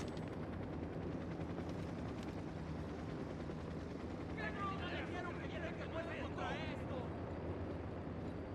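Apache attack helicopter in the Ghost Recon Wildlands video game, a steady heavy rotor drone filling the whole scene alongside game effects, with voices talking over it in the middle.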